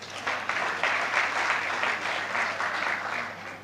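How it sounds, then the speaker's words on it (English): Steady applause from a crowd at a journalism awards ceremony in the Gambia, a dense patter of many hands clapping at an even level throughout with no voices standing out. "Please, let's applaud."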